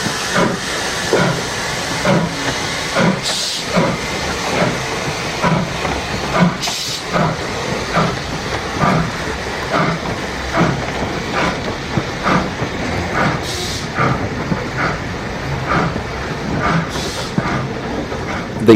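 A steam pannier tank locomotive on an industrial railway hisses steadily, with rhythmic clanking and wheel clatter running underneath and brief louder bursts of steam, fairly close and continuous throughout.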